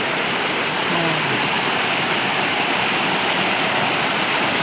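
A forest river rushing past up close, a loud, continuous broadband roar of flowing water that stays steady without pause, with no voices.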